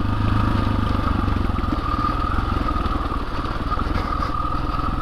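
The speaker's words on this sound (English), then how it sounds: "Engine brake my way down that." A 2021 KTM 500 EXC-F dirt bike engine braking down a steep trail, giving a loud, continuous close-up engine rumble with a rapid pulsing throb and a steady droning tone, no talking.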